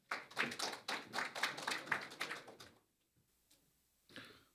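Brisk applause from a conference audience at a Korean offshore wind industry forum, dense clapping for a few seconds before it cuts off abruptly into near silence, followed by a short faint stir.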